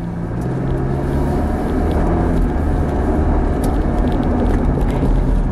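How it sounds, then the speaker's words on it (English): Road traffic rumbles steadily behind the driver on a Fort Worth road, a broad continuous engine and tire roar with no distinct passes, fairly loud and unbroken throughout. "Here comes all the cars behind me."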